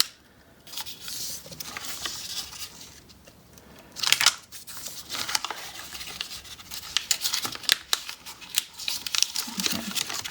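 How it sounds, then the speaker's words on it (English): Paper handled and folded in half for an origami heart, with soft rustles and crisp creasing scrapes that come in scattered bursts, close by and fairly quiet. "Fold this in half just to get those lines."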